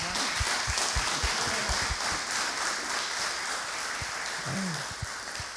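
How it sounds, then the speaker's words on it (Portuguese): Audience applause at a real estate ethics talk, a dense steady wash of clapping filling the room for several seconds, with a brief voice breaking through near the end. "Uma salva de palmas para eles."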